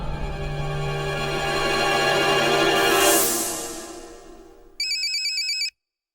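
A telephone rings with a loud electronic ringtone, a burst of repeated tones near the end that stops abruptly, following a fading musical passage in a Hindi film scene.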